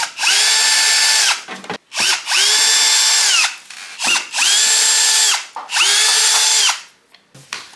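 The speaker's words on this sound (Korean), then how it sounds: "요거 일단 나사 푸십시오." A power drill backs screws out of an LG commercial stand-type air conditioner during disassembly for cleaning, running in four steady whirring bursts separated by short pauses, close and loud with no talk.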